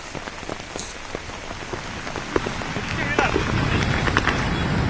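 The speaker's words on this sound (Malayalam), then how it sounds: "ശക്തമായ മഴ വീണ്ടും തിരുവനന്തപുരത്ത് ആരംഭിച്ചിരിക്കുന്നത്" Heavy rain pouring down at Shanghumukham in Thiruvananthapuram, Kerala, a dense steady hiss of drops spattering on surfaces that grows louder toward the end, with scattered nearby drips and taps.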